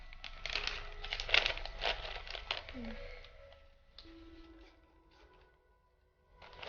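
A plastic bag serving as a model stomach in a classroom-style science demonstration crinkles and rustles in quick, close bursts. Soft, faint handling noises follow.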